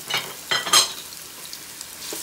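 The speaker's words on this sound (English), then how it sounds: "Just put it in there and saute that up." Onions sautéing in a Power XL cooker, with a few short sizzling bursts early on that fade to a quiet, faint hiss.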